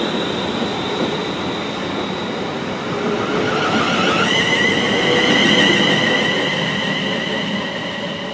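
A Class 350 electric train runs along the track, a steady rumble with wheel noise and a rising motor whine, swelling slightly as it picks up speed, with no voices over it.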